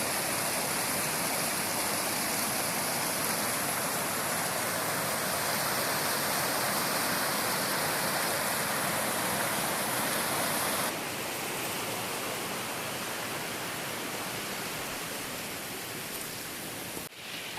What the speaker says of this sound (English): you can see already this is the waterfall